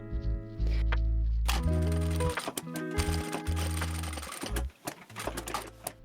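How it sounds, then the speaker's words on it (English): Sewing machine stitching a fabric seam closed with a 1 cm seam allowance on a French beret hat, running in loud steady bursts of rapid mechanical whirring with short pauses and clicks between runs. "sew the remaining gap closed with a 1 cm seam allowance"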